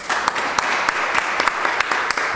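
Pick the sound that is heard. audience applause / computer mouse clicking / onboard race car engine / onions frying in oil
audience applause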